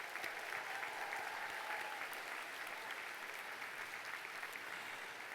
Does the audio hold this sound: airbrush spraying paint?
no